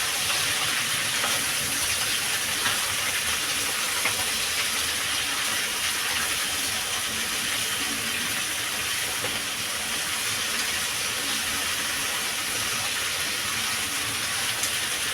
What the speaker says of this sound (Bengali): আমি এইভাবে কষিয়ে নেবো শাকটা